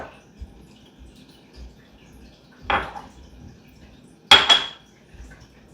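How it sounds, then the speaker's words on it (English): Mayonnaise is spooned into a bowl in a quiet kitchen: two sharp clinks of a spoon against the bowl stand out clearly, with faint soft knocks and scrapes between them and no talking. "I'm simply going to add my mayo to a bowl."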